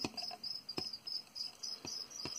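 A feeder cricket, kept as food for tarantulas, chirps in short, faint, rhythmic trills with steady buzzing between them, close by in a quiet room and without talking.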